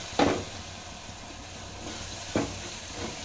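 Tomatoes and homemade chili powder sauté in a pan for goat head curry, giving a steady low sizzle with two brief louder stirring bursts and no talk.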